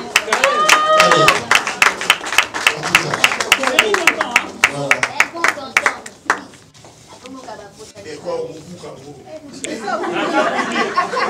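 Audience applause at a Congolese cinema award ceremony, a crowd clapping steadily under lively chatter and voices, fading after a few seconds before talk and noise pick up again.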